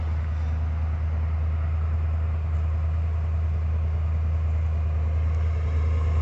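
A car engine idles steadily near its exhaust, a constant low rumble with a faint hiss above it and no alarm or voices throughout.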